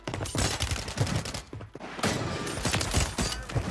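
Rapid gunfire from a video game weapon fitted with a conversion kit, bursts speeding up and slowing down, loud and close, with a brief lull before shooting resumes.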